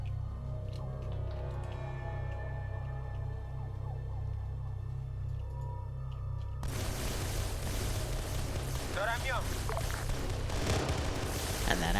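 Distant gunfire and explosions rumble through a Halo game session, a steady crackling fusillade with low booms under a constant droning hum, growing denser and louder partway through.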